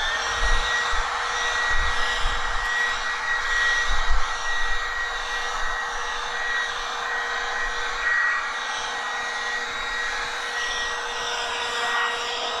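An Aoetree cordless leaf blower runs steadily at close range with a continuous, airy whine and rushing broadband hiss, holding an even level for about twelve seconds with no talking.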